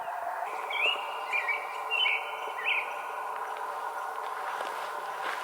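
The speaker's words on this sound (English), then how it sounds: "Birds are chirping." Birds chirp in short, high calls repeated several times on a mountain trail near Mount Brewster in Banff. The calls sit over a steady wash of wind or distant running water, with no talking.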